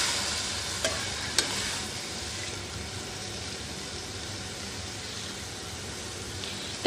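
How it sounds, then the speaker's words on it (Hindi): Chicken and cabbage stirred together in a hot pan give a steady, close frying sizzle, with a couple of sharp spoon-scrape clicks early on. "अब मैं इसके अंदर शामिल करूँगी बंद गोभी और इसको अच्छे से मिक्स कर लूँगी"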